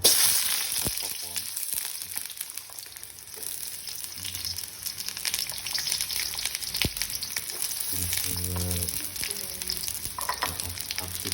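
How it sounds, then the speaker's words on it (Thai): Onion and vegetables stir-fried in hot oil in a wok for squid with chili paste, giving a steady close sizzle with scraping stirs and clinks of the spatula throughout. "เราจะเอาผัก ลงไปผัดก่อนนะครับอย่างเช่น ใส่หอมใหญ่ไป"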